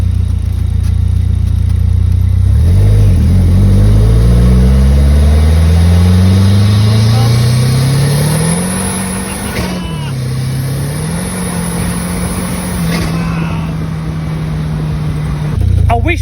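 A 400 hp mid-engine Triumph Spitfire weighing 650 kg runs loud and close from inside the car, its engine note climbing as the revs rise, then settling into a steady, throaty drone.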